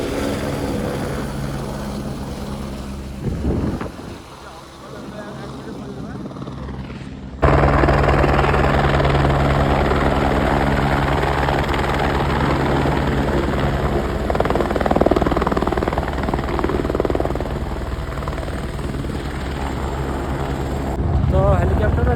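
A helicopter flying at Kedarnath gives a steady, loud rotor and engine drone with rhythmic chopping. The noise briefly dips and jolts before resuming strongly. Voices speak faintly beneath it.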